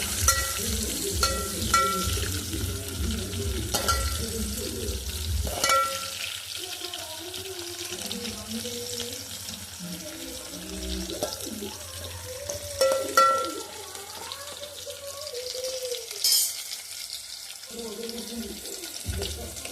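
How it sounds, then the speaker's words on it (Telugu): Sliced onions and green chillies fry in a pan for bagara rice, a steady sizzle running throughout, mixed with stirring clatter, running-water noise and sharp spatters at intervals. "పచ్చిమిర్చి వేసుకొని మంచిగా ఫ్రై చేసుకోవాలి. బాగా గోల్డెన్ రెడ్ కలర్ రావాలండి."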